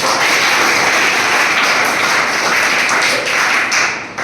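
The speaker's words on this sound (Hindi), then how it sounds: "तो एक बार जोरदार ताली।" Loud, dense applause from a crowd fills the whole moment, steady and close, fading slightly at the end.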